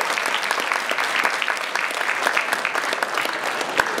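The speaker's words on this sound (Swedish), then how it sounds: "en varm applåd" An audience applauds warmly at the close of a 2015 onstage talk with Lilian Thuram in Sweden. Dense, steady clapping from a sizeable crowd fills the room for several seconds at an even level, with no voices over it.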